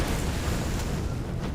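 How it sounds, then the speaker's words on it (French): A bomb goes off in the video game Far Cry 3, a loud, sustained roaring rumble of explosion that fills the whole short moment without pause. "J'ai mis une bombe en fait. Je sais pas si vous allez avoir explosé. Elle explose."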